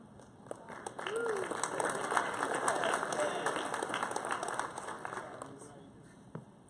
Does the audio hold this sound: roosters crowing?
no